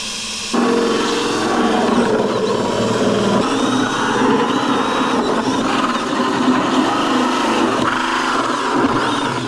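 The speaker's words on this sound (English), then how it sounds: "you will then, at your mark, drill a hole." A power drill runs steadily for several seconds through a 5-gallon plastic bucket, a loud, close whirring grind with a slight change in pitch as it bites through the plastic.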